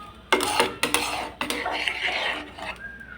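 Metal clatters and knocks against a cooking pan of egg curry as a lid is set on it, several sharp close clanks in quick succession followed by a brief scrape, with no talking.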